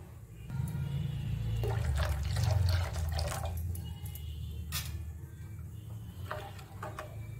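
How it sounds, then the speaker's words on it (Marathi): Water poured from half a glass into a pot of Malvani surmai fish curry, a steady gush and splash that swells near the middle and then eases into trickles and drips, with no talking. "अजून मी थोडंसं पाणी टाकणार आहे अर्धा ग्लास।"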